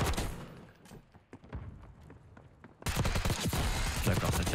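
Bursts of assault rifle gunfire in Black Ops 6, a first-person shooter, with a quieter stretch of scattered shots then a loud sustained burst, heard alongside gaming chatter.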